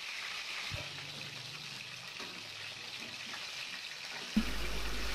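Four chicken pieces for a chicken roast hit hot oil in a wok where onions were just fried, giving a broad, steady sizzling hiss that swells sharply louder near the end.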